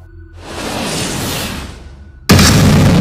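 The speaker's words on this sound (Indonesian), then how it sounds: "Ledakan cahaya merah membelah langit dan membelah tubuh Noyo Genggong." A deep, loud explosion sound effect bursts out after a rising whoosh, then a second sharp blast hits and sustains as a roaring rumble, with no talk.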